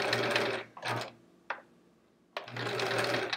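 A home sewing machine stitching quilt pieces with a fast, steady mechanical whir in bursts, a short run, a brief tap, a pause, then another sustained run, close and quiet with no talking.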